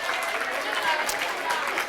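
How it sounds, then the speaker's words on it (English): Applause from an audience at a community steering committee meeting in Stockton, a short dense burst of clapping with crowd noise around it. "Round of applause"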